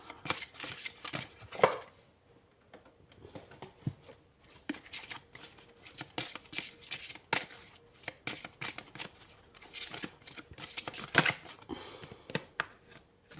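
Tarot cards are shuffled by hand close up in repeated crisp riffling bursts separated by short pauses, quiet and alone.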